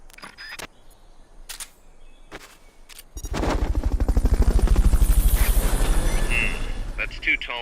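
A helicopter in Metal Gear Solid: Peace Walker comes in after a few sharp clicks and short bursts, its rotor thudding in a fast steady beat that swells loud and holds as it lifts away.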